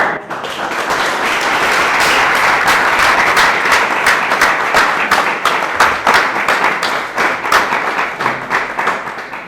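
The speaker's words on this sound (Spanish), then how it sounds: "Un aplauso a Emilio" A lecture audience at a conference on the history of the guitar applauds steadily and loudly throughout, dense clapping sustained without pause and no voices on top.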